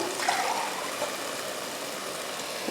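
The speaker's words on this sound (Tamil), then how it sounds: "இப்போ நம்ம தண்ணி சேர்த்துடலாம்" Water poured steadily into a pot of seeraga samba rice for kushka, a continuous close splashing trickle heard alone.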